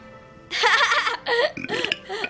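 A person lets out a series of voiced belches, several drawn-out croaking bursts in close succession, near and moderately loud after a brief quiet start.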